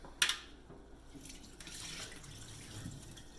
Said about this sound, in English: We're going to give it one last big rinse.